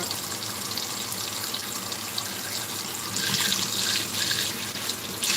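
Tap water runs steadily into a kitchen sink for washing dishes, a continuous close splashing rush with no voices.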